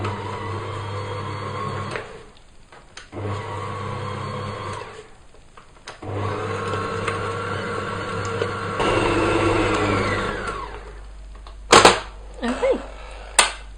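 An electric mixer whirs steadily through cheesecake filling with powdered sugar, starting and stopping in several bursts, close and moderately loud, with a few clunks and knocks near the end.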